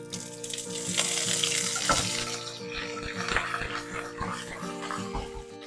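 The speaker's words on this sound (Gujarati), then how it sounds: "રાઈ ને તલ સરસ ફૂટી ગયા છે. 1 લીલા મરચાના ટુકડા છે અને 8-10 લીમડાના પાન એડ કરીએ." Mustard seeds and white sesame crackling in hot oil with green chili pieces and curry leaves, a steady loud sizzle with sharp popping bursts throughout, for Gujarati dudhi muthiya tempering.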